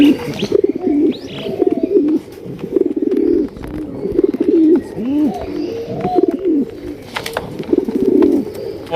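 Large pigeons of a breed from Gopalganj coo repeatedly in soft, rolling low calls, close by, with occasional chirps from other birds and no talk.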